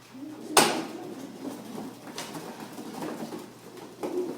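Pigeons coo softly nearby in low repeated murmurs, with a sharp knock or clack early on and a few faint rustles and bumps around them.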